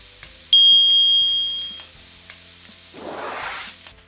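A single bright ding rings out and fades, then a short burst of sizzling rises as sirloin steak and asparagus hit a hot non-stick or griddle pan. No one talks.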